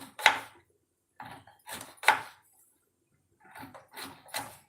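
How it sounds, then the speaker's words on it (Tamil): A knife chops through peeled elephant foot yam on a board, making crisp, close cuts in short clusters of two or three with brief pauses between them. There is no talking. "இப்போ வந்து கத்தியில் வச்சு கட் பண்ணிடுவோம்"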